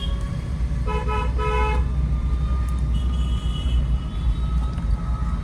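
A car horn on a rough village road sounds in a few short repeated honks, then one longer sustained blast, loud and close over steady engine and road rumble.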